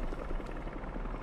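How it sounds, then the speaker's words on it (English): Helicopter rotor blades in the video game Spider-Man 2 give a steady, continuous low chopping thrum at a constant moderate level throughout, with no voices over it. "A helicopter's blades."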